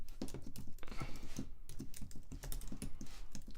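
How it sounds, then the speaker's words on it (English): Rapid, uneven typing on a computer keyboard sits close by, with dense clicking keystrokes and short bursts of key presses continuing throughout at a steady moderate level. "I apologize for my typing."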